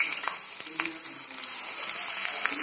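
Onion, mustard seeds and cumin sizzle and crackle in hot oil, a steady bright frying hiss with a few scattered pops and faint stirring scrapes, close and moderately loud with no talking.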